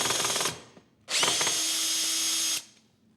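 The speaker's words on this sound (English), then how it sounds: "Let's drill." A power drill bores into a wall in two close, loud bursts: a short whine that stops, a brief pause, then a longer steady high-pitched run that cuts off abruptly.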